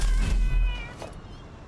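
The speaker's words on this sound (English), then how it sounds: "Yeah, it's definitely the cats." Cats meowing in a game setting, with a short burst of mewing near the start that fades into a low steady hum for the rest.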